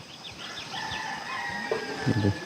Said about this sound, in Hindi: मुर्गे की आवाज़ अभी भी आपको सुनाई दे रही होगी।